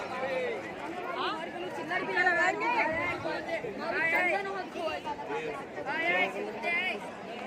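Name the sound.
dense crowd chatter at Shri Dwarkadhish temple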